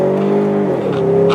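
A Ford Mustang pulls away under steady, close engine drone that dips in pitch partway through as the transmission shifts gear.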